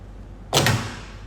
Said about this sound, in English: And it pops out just like that.